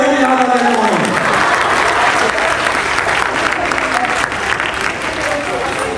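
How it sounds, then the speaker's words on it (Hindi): Loud, sustained applause from a seminar audience fills the whole stretch, dense clapping that starts right after a brief spoken phrase and carries on steadily to the end. "ताली बजाओ"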